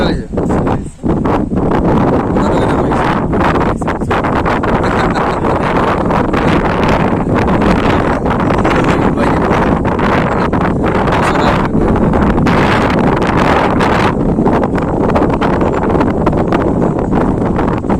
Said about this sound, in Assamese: বাপৰে যিটো বতাহ, এইফালে পানীৰ যে ফলফল শব্দ